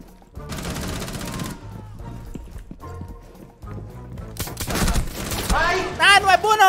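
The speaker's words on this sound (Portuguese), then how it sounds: "Deixa eu ver se a pistola da caveira é apelona aqui." Pistol shots crack in quick bursts during a Rainbow Six mobile shooter match, mixed with busy game effects that grow louder and denser toward the end.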